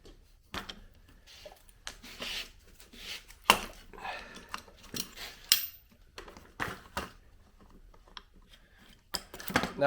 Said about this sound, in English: To pull this flywheel, you need a flywheel puller.